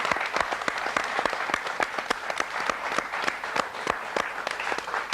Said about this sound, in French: je vous propose d'applaudir Nina Toussaint pour ce reportage incroyable